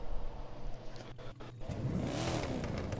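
A Ford Mustang Boss 429 in the racing game The Crew 2 revs hard, its engine note dipping briefly and then climbing in rising sweeps, loud and close, with no talk.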